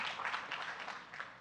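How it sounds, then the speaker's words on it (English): An audience gives a brief round of applause for lead mentors at a summer research program demo day, a steady wash of many hands clapping at a moderate distance with no talking over it. "maybe give a little round of applause for our lead mentors"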